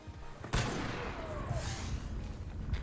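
Gunfire in the Arc Raiders video game: a sharp shot followed by a stretch of dense rattling fusillade with scattered pops, moderately loud and continuous.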